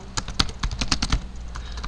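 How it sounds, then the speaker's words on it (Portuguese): Typing on a computer keyboard during C# programming work, a quick run of sharp key clicks at close range, irregular in rhythm and fairly loud, with no voices. "eu estou digitando ultimamente muito mal"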